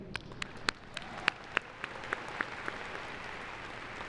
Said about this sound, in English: let's give one final round of applause